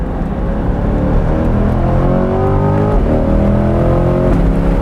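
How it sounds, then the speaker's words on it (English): A C8 Corvette engine drones loudly and steadily at close range on a race track, its pitch climbing through gears with brief dips between shifts. "Back on track with the C8 Corvette."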